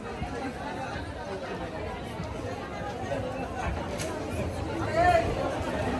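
Steady crowd chatter and babble fills a busy Durga Puja pandal in Kolkata on a hot day, a dense continuous hubbub of many voices close around, with a brief louder rise near the end.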